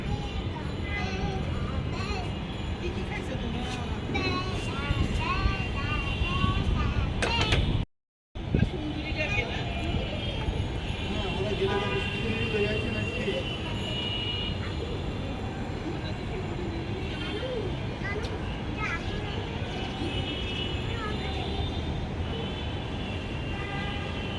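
A steady low rumble of a train passing at a distance, continuous throughout, with voices talking faintly underneath and a brief dropout partway.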